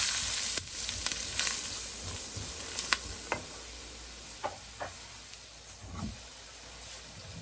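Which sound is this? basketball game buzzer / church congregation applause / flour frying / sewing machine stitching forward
flour frying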